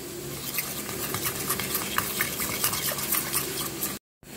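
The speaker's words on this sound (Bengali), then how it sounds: "এইটাকে আমি একটা পেস্ট তৈরি করে নিচ্ছি।" A spoon stirs a thick paste of sour yogurt, Kashmiri red chili powder, ground coriander and cumin in a bowl, scraping and clicking steadily and close, alone without speech, then briefly cutting out near the end.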